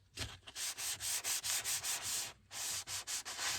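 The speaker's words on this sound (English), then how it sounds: "we're going to give this thing a very light sanding" Light back-and-forth passes of 600 grit sandpaper over an M422 Mighty Mite body, a steady series of rhythmic scratchy strokes up close with a brief pause partway through.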